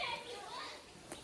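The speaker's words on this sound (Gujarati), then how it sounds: "યાર આ છોકરાઓ છે ને બેકગ્રાઉન્ડમાં અવાજ આવતો હશે" Children play and shout in the background near a home, their overlapping high voices continuous and moderately distant throughout the short stretch.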